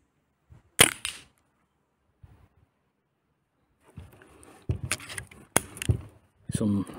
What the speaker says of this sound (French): j'ai déjà tiré plus de 50 coups sur cette cartouche CO2